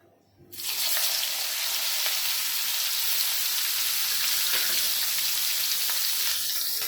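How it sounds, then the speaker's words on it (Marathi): Green chilies roasting in oil with coconut for fried poha chivda give a loud, dense, steady frying hiss that rises quickly after a quiet start and stays close and constant. "आता आपण इथे मिरच्या भाजून घेऊया"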